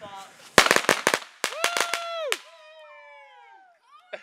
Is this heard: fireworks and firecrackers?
yes